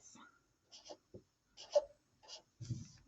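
Decimal numbers being written by hand with a pen, soft scratchy strokes in short bursts between and under a person's close, steady speech.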